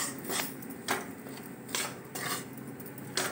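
Potatoes with spices roasting in a pan, a spoon scraping and clanking against the metal in a steady, repeated stirring rhythm of about six strokes, close and distinct with no talk.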